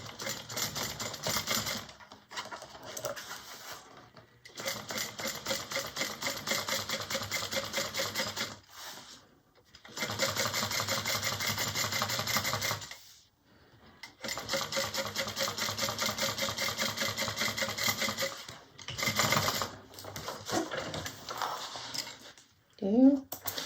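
Sewing machine top stitching a fabric bag, running in rapid, rhythmic bursts of needle clatter separated by short pauses, close and fairly loud.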